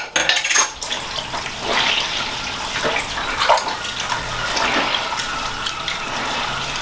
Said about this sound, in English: So what I'll do is let the water out.